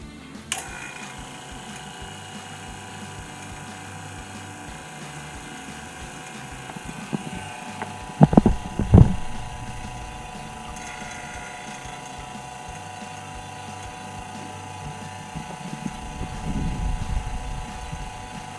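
Vacuum pump running steadily while evacuating the lines of a mini split air conditioner being installed in a skoolie, a constant mechanical whir with a few sharp rattling clicks near the middle and no talk.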